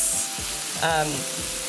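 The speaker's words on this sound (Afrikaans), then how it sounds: "Die rede hoekom ek nou my mince nou begin braai het" Meat sizzles and crackles steadily in a hot pan, a close, continuous frying hiss with a few clinks from a utensil.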